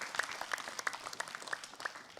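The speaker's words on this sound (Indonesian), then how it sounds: "Tepuk tangan buat Ustadz Ahmad Khan." Faint, sparse clapping for a preacher at an Islamic religious lecture, with a few distinct claps landing in a loose, regular rhythm over soft background murmur.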